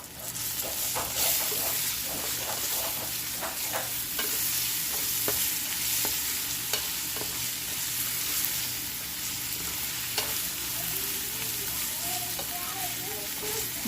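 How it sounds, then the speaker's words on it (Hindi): Grated coconut and raisins fry in ghee for sweet vermicelli, a continuous close sizzle with repeated scraping and stirring strokes throughout and a low steady hum beneath. "खोपरा भी और किशमिश में सारी डाल दूंगी ताकि ये घी में तल जाएं"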